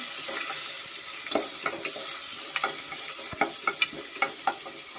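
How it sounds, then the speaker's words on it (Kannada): Onions sprinkled with salt frying in a pan, a soft continuous sizzle broken by small clicks and scrapes as they are stirred, fairly quiet and close, no speech. "ಸ್ವಲ್ಪ ಈರುಳ್ಳಿ ಫ್ರೈ ಮಾಡ್ಕೊಳ್ಳೋಣ"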